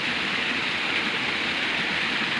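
Rain falling in a forest during camping, a steady, uniform hiss of drops that stays constant and fairly loud throughout, with no voices.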